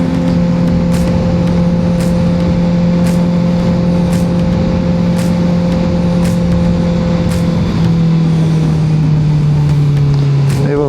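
A dirt bike engine held under steady throttle while the rider lifts the front wheel, a loud sustained drone that dips in pitch near the end, with a faint voice talking over it.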